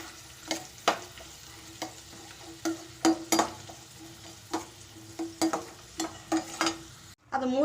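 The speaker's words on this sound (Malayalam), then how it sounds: "ആ പാനിൽ തന്നെ സ്വല്പം എണ്ണ ഒഴിച്ച് നമുക്ക് ആ ഡാരിയ അതിലേക്ക് ഇട്ട് കൊടുത്ത് ഒന്ന് വറുത്തെടുക്കാം" Roasted chickpeas (dalia) are stirred in a little hot oil in a pan for poha chivda. Soft sizzling runs under repeated scraping and clinking stirs at an uneven rhythm, close up, ending in a brief louder rattle.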